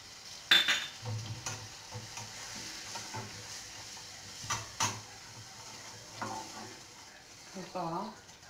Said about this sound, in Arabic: المعلقه ديال الزبده كتذوب بهذا الشكل